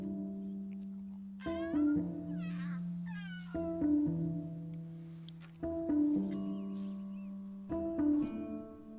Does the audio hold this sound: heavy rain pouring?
no